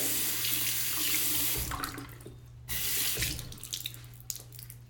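A bathroom tap runs while someone washes with pine tar soap, a steady rush of water interrupted briefly as hands move under the stream, then resuming, close and fairly loud.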